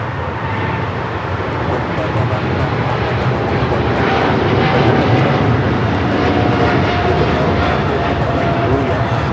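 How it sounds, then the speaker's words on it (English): A China Cargo Airlines Boeing 777 freighter takes off at Los Angeles International Airport with a loud, sustained jet engine roar that swells and holds throughout, with a faint whine on top. "This is China Cargo Airlines 222 taking off to Shanghai on the 777 freighter"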